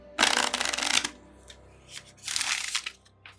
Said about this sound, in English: while you're shuffling the cards